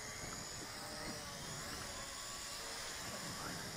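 A Syma X8SW quadcopter drone flies in steady wind, its rotors giving a constant, faint broadband whir that stays even and unbroken from start to finish.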